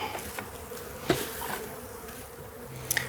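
Honey bees buzz faintly during a varroa mite alcohol wash, a soft continuous hum with a few light taps and knocks of the sampling cup and jar.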